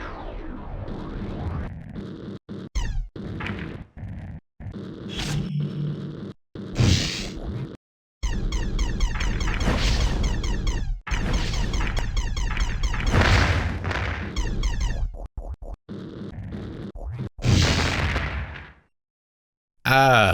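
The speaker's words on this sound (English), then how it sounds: "the one you'll most be familiar with is probably the sound of your ship exploding repeatedly" A spaceship in a 2D Nintendo 64 game explodes over and over, a run of loud, dense crackling bursts and booms with short gaps, ending in a brief silence.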